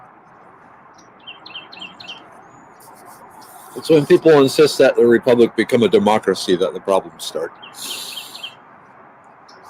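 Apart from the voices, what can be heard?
birds singing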